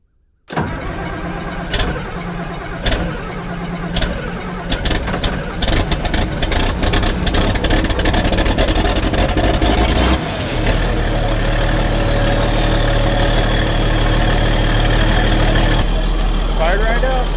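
A John Deere 690C excavator with a 466 diesel engine is started cold on a roughly 20-degree morning without a block heater. It cranks briefly and catches, then settles into a loud, steady diesel idle that deepens partway through, and a voice is heard near the end.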